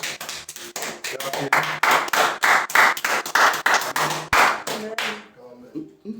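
A congregation claps together at a lively prayer meeting, dense rhythmic handclaps filling the room for about five seconds before tapering off, with voices mingling in.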